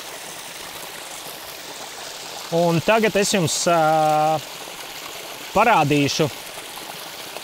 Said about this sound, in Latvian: Šāds tev ūdens kritumiņš.